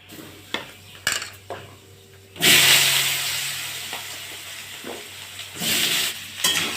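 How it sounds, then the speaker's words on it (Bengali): Diced potatoes fry until reddened in a home kitchen, the prep for a Bengali jackfruit-and-prawn curry: metal utensils clink and tap against the pan, then a sustained hiss of frying swells up close, with further spatula knocks over the sizzle. "লাল লাল করে ভেজে নেব।"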